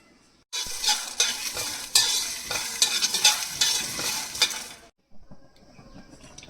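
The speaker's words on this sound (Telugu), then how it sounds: "ఎండుమిర్చి ఒక ఏడెనిమిది ఎండుమిర్చి వేసుకొని ఫ్రై చేసుకోవాలి" Dried red chillies and coriander seeds frying in a pan, a loud crackling sizzle with repeated scraping stirs for several seconds before it cuts off and a fainter rattle follows.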